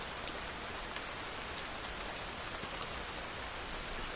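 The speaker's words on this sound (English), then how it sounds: "Listen to the sound of the rain gently falling in the background." Steady rain falls on a surface as a dense, even hiss, with scattered individual drops ticking through it at a constant level and no voices.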